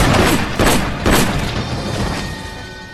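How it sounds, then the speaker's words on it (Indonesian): Gunfire rings out in a movie shootout between three people: several loud, booming shots in quick succession within the first second or so, followed by a lingering echoing rumble that slowly fades. "Mereka bertiga adu tembak"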